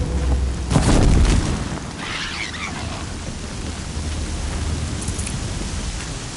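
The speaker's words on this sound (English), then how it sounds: "Been waiting for the storm to hit." A storm in Horizon Zero Dawn, with steady hissing rain throughout and a deep thunder-like boom early on, no voices.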